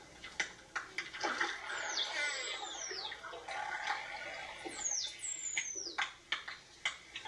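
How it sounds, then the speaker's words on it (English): A dolphin's signature whistles, captured underwater by a hydrophone, rise and sweep in several distinct tonal glides over a hissing, crackling underwater background with scattered clicks and pops. "We know that this is Marina's signature whistle."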